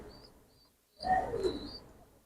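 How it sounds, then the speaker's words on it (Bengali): Imported pigeons in a breeding room: after a near-silent moment, a single close, soft, throaty coo rolls out and fades. "খুবই সুন্দর ভালো মানের কবুতর।"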